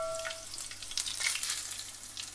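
Cumin and coriander seeds crackling in hot oil for a Goan fish curry, a close, continuous sizzle with scattered sharp pops, no talking.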